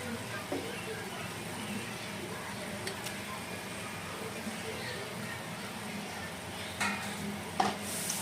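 Chicken pieces sizzle and are stirred in hot spiced oil in a pan, a steady low crackling hiss with occasional scraping clinks of the utensil, fairly quiet throughout.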